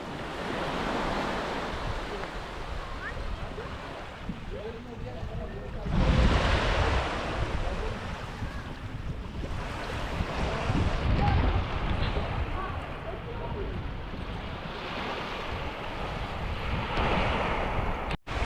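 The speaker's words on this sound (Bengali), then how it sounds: "এখানে কথা কম বলতে হয়, জলের আওয়াজ শুনতে হয়" Surf washing in steadily at a small beach in Kerala, a continuous broad wash with swells rising and falling, mixed with wind rumble on the microphone and no talk.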